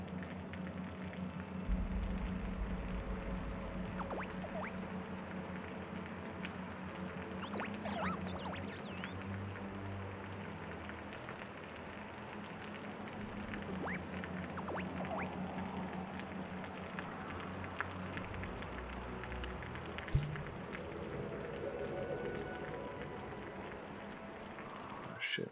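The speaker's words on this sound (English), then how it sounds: "That sound is probably rain hitting my helmet." Rain pattering on a helmet in the video game Osiris: New Dawn, a faint, steady hiss of drops with scattered ticks and a low hum beneath, quiet throughout.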